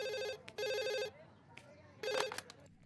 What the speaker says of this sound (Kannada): ಬೆಳಗ್ಗೆಯಿಂದ ಫೋನು ಸುಮ್ಮನೆ ಬಡ್ಕೋತಾ ಇದೆ.